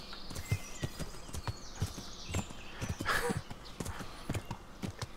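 Horse hooves clip-clopping at a steady walking rhythm in the medieval game Kingdom Come: Deliverance, moderately close, with faint background ambience and no talk.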